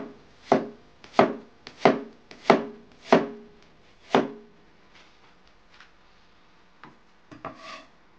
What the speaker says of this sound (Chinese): 再来切一点姜片儿。